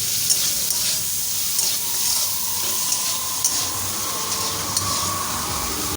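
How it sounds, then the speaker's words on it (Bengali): Bitter gourd fries in hot oil in a kadai, giving a steady close sizzle with light, regular clicks and scrapes as it is stirred. "এবার এখানে উচ্ছেটাও ভেজে নিচ্ছি।"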